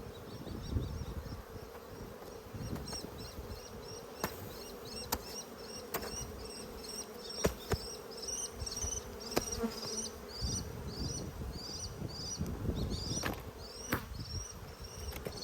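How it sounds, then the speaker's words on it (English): Honey bees swarm around an open hive in an Australian backyard apiary during an inspection, producing a dense, steady, close-up buzz that fills the whole stretch, with scattered small knocks and clicks from the hive work. "really good bee numbers in the top box."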